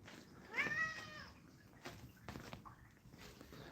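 Hungry house cats meow indoors, one clear drawn-out meow followed by softer, more distant mews and faint shuffling footsteps in a quiet room.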